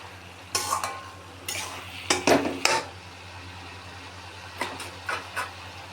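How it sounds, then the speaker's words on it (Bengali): Cabbage with peanuts being stirred in a frying pan, with several scraping, clattering strokes of a spoon against the pan at uneven intervals over a low background hum, close and moderately loud. "এখন এটাকে ভালো করে নেড়ে নেব।"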